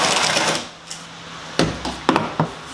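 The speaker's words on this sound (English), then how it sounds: "and then snap it in place." A dust hose being fitted onto a portable lunchbox-style planer, with a short hiss of handling followed by several sharp plastic snaps and knocks close by.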